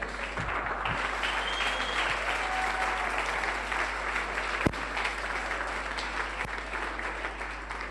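A church congregation applauds steadily, a sustained and even wash of many hands clapping at moderate distance, with a couple of sharp knocks partway through.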